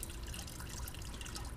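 Coolant drains from the engine of a 2002-2006 MINI Cooper R53 during cylinder head gasket work, a steady close trickling and splashing of liquid with no voices.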